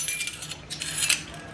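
A spoon clinks against other cutlery in a kitchen, making a quick series of light metallic jingles and taps. The sound is close and moderately loud, with no voices.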